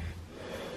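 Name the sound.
young pig snoring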